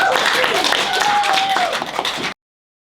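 A school assembly audience claps and applauds in a steady, dense wash of hand claps lasting a couple of seconds before cutting off abruptly, with a faint whistle-like tone briefly audible through it.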